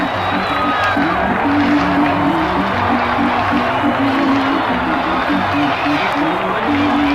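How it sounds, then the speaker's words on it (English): Baseball stadium crowd roaring after a triple play in the 14th inning of a Mets–Giants game, a dense, sustained cheer with whoops and applause filling the whole stretch, heard from a broadcast booth over a steady hum. "Listen to that crowd on the triple play in the top half of the 14th."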